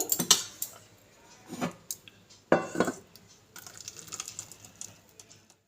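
Smooth moong dal paste being scraped into a large bowl, with clinks and taps of a spoon against metal in a few short bursts, close and moderately loud, no talking.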